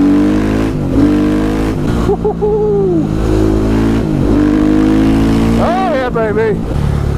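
A KTM 500 EXC supermoto fitted with an FMF Factory 4.1 RCT exhaust idles and blips its throttle up close, with sharp rising revs cutting through a steady engine drone. Someone speaks briefly over it.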